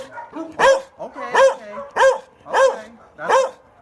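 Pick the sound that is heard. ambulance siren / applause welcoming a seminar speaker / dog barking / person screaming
dog barking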